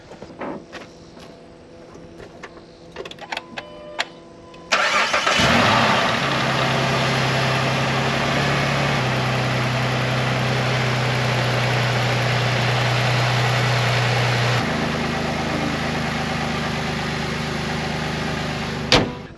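A 2006 Jeep Liberty with the 3.7L engine starts up and settles into a steady, close idle with a low even hum, preceded by clanking of tools and brief handling noises.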